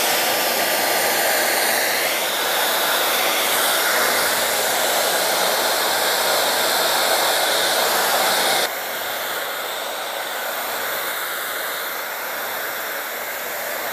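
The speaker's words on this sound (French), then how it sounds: "pour lisser déjà un maximum tes cheveux avec le sèche-cheveux" A hair dryer blowing steadily while drying and straightening hair, a loud, constant airy roar that drops slightly in level partway through as the dryer is moved.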